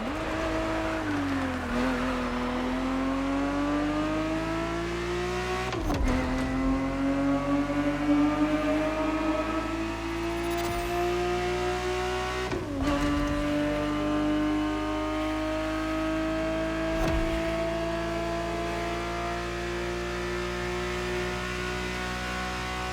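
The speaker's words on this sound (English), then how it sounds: "The Ferrari 365 GTB4 is the perfect vehicle for you to experience Ferrari racing as it felt back in the 70s" A Ferrari 365 GTB4 races in The Crew Motorfest video game, its engine droning loud and continuous, pitch climbing through each gear with brief dips at the shifts.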